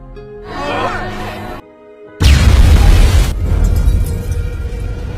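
An open propane tank explodes in a film scene. A loud, deep boom bursts in after a short silence and rolls into a sustained roar that tails off. Before the blast there are tonal, music-like sounds.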